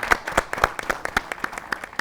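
Applause at an Eid mushaira poetry gathering greeting poet Saima Aftab, a small audience clapping in a brisk, uneven series of distinct, close claps.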